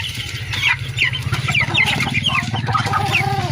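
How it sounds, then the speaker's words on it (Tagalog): Broiler chickens cluck busily while eating feed, with overlapping short clucks and chirps and a low steady hum beneath, close and continuous. "takam na takam yung ating broiler chicken"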